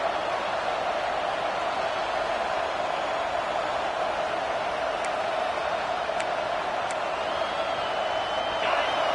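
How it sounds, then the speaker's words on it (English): Stadium crowd at a college football game between Notre Dame and Penn State: a dense, steady roar fills the whole stretch at even loudness, with a few faint whistles and no clear cheering peaks. "This crowd going to try to make life miserable for these guys."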